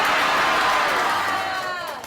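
Seminar audience roars together in a loud, dense wall of cheering and shouting, sustained for about two seconds before gradually tapering off.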